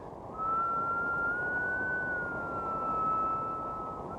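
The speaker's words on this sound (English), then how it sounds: "As the train comes towards you and goes away, the note rises and then falls" A single sustained train whistle tone, rising slightly in pitch and then falling again as it passes, heard over a soft low rumble.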